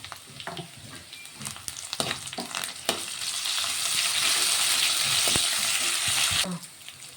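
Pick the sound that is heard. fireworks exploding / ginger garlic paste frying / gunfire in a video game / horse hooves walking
ginger garlic paste frying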